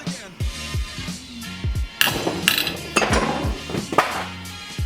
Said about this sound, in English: I'm using my breaker bar